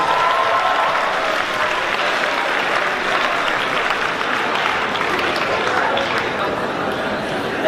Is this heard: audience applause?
yes